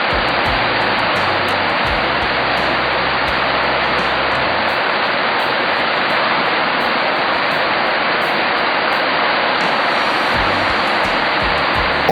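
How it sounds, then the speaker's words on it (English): A roadside waterfall roars in a loud, steady, broadband rush close by, with a low rumble of passing traffic or wind in the first few seconds. "Soon I saw a waterfall roadside."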